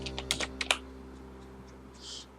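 Typing on a computer keyboard during accounting data entry, a handful of quick, close key clicks followed by a softer keystroke, with no talking.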